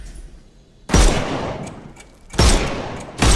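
Gunfire in the video game Sherlock Holmes Chapter One: three loud, sharp shots spaced about a second apart, each a heavy blast with a decaying tail, standing alone against a quiet background.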